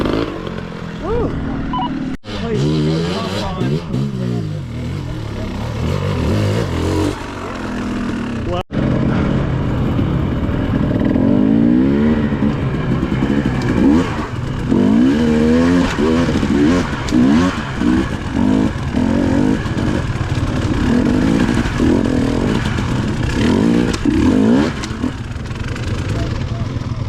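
Dirt bike engines rev and buzz at the Green River Dirt Bike Rally 2023, a continuous rising and falling drone of motors close by with people talking over it throughout.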